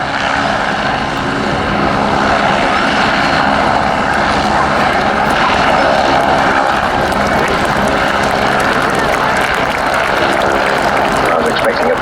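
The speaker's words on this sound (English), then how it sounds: "Now, it's a helicopter." A Belgian Air Force AW109 helicopter flying at the RAF Cosford 2016 airshow, its engine and rotor drone steady and fairly loud throughout, with an announcer talking over it.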